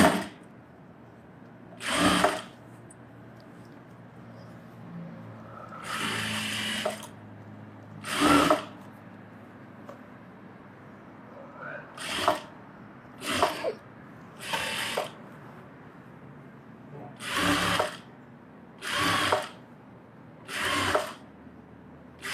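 A tailoring sewing machine roughly stitching blouse fabric runs in short bursts of whirring, about ten separate runs with quiet pauses between, close and moderately loud.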